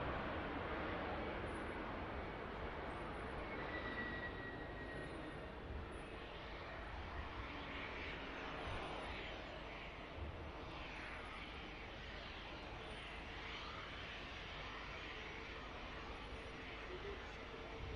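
A Qatar Airways airliner at Manchester Airport makes a steady broad engine roar, fairly distant and constant throughout, with faint background voices.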